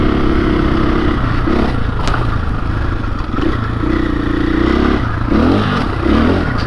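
A dirt bike, a KLX 300 or KTM 500, revs hard as the throttle is twisted, with loud rising and falling engine bursts up close alongside rattling clatter.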